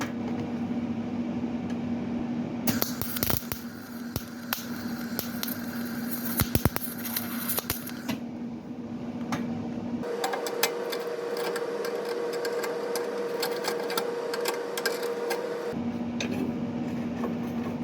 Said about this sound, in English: So let's turn the welder on.